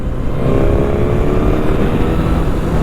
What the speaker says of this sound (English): It sounds epic as well, it being a 4-cylinder.